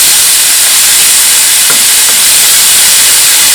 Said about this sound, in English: let that sear on one side till it's nice and golden brown